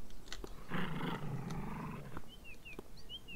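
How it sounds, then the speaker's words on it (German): A dog growls in the video game Beyond Eyes: a rough, rumbling snarl lasting over a second, followed by faint chirping birdsong in the background. "Oder soll das das Knurren vom Hund sein?"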